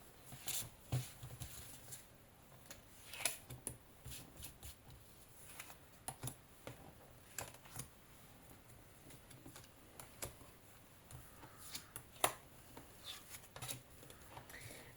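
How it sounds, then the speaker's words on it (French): Oracle cards drawn one by one from a deck, heard as faint scattered crisp flicks and taps, quiet and close with no speech. "Donc là, je vais tirer 5 cartes."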